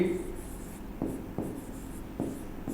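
Chalk or marker writing a math solution on a board during a Hindi lesson on HCF by Euclid's division algorithm, heard as scratchy strokes with sharp taps at about 1.0, 1.4, 2.2 and 2.7 s over a faint room hum.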